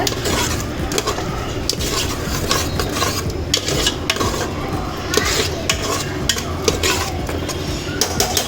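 A spoon stirs biryani masala into cooked tomatoes in a pan while chicken biryani is being made: continuous close scraping and rubbing, with occasional metallic clinks.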